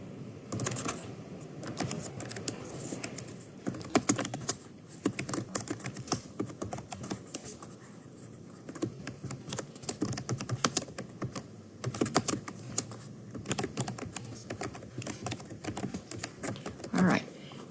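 Rapid clicking keystrokes on a computer keyboard run nearly continuously, fairly close and moderately loud, in irregular bursts with brief pauses.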